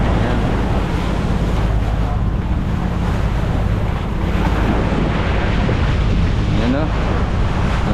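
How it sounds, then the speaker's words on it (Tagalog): Ocean waves splash and surge steadily against a small boat heading out to sea, a loud, continuous wash of water roaring with wind buffeting the microphone throughout. "Talagang nang babasa ang alon, no?"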